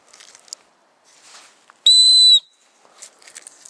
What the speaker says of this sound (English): It's got a whistle on there.